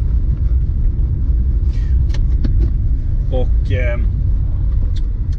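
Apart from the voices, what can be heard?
car rattling and shaking noise while driving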